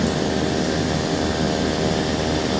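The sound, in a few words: Blacksquare Turbine Duke turboprop engines starting in a flight simulator video game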